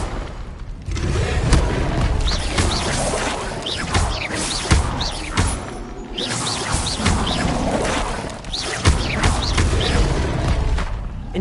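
An Incendio fire spell blasts again and again in a continuous, loud wash of booming whooshes and crashing impacts, with no pause between casts.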